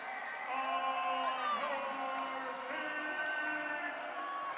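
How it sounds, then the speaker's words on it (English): Crowd cheering and whooping in a packed gym at a college volleyball match, set four near match point, a loud sustained roar with shouts rising over it throughout. "The crowd at Bronco Gym is ready."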